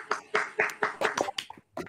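A small audience at a music camp open mic claps in an uneven, steady rhythm of sharp, separate hand claps, close and moderately loud, with a short pause near the end.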